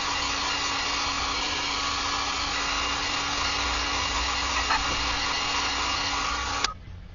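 A hair dryer blows steadily and close up on a freshly painted American flag bottle opener, a constant whooshing hum that switches off abruptly near the end with a faint click.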